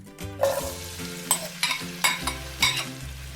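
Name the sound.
onions and chilies frying in hot oil in a pan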